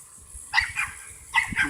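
Dogs bark in two short bursts of several barks each, somewhat distant, over low rumbling noise during an outdoor bike ride.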